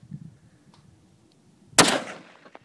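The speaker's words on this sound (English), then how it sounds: "One more shot, I put a big crack in it." One loud, close report from an AR10 rifle fired at a rock, a sharp crack followed by a rattling decay; faint low murmurs and small ticks sit before it in an otherwise quiet outdoor setting.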